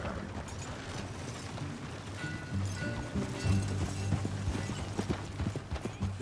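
Rapid hoofbeats clip-clop in a steady galloping rhythm, mid-distance, with a low musical drone underneath, from a horse in Red Dead Redemption 2.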